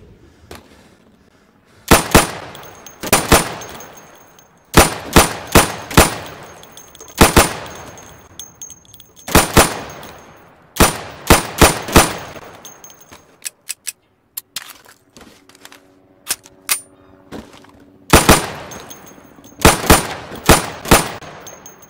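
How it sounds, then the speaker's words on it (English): Sharp sidearm shots ring out in the game Insurgency, fired at pop-up targets in quick bursts of two to four, each group separated by pauses, loud and close, with faint metallic clanks in between. "So you can shoot accurately over 20 feet with your sidearm."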